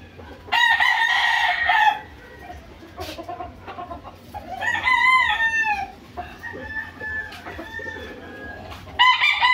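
Several loud, close crows from a white Kelso gamecock rooster with a sweater line, bursting out in separate calls across the clip over a steady low background hum, with one further crow starting at the end.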